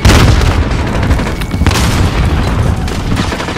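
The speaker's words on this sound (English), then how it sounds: "Throwing grenade!" Grenade explosion in Call of Duty multiplayer Team Deathmatch, heard as a loud, continuous booming roar of blast and gunfire that fills the whole stretch without a pause.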